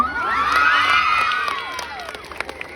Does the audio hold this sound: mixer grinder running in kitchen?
no